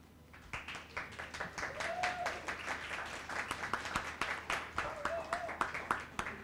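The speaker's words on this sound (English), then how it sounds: "Please give a warm applause to our speakers" Scattered, fairly faint applause for the speakers at an art patronage panel talk, individual claps distinct over a light murmur.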